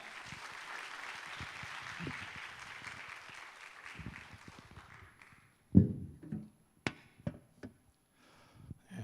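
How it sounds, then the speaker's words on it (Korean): A church congregation at a Friday evening service claps to welcome the pastor, with steady applause filling the room for several seconds before it fades out, leaving a few sharp knocks and thumps nearby. "우리 목사님 나오실 때 우리 박수로 환영하겠습니다"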